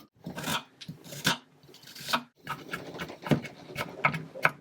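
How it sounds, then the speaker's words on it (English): Garlic being chopped with a knife on a board, a series of close, irregular sharp taps in bursts with short pauses between them. "Now we're going to chop up the garlic."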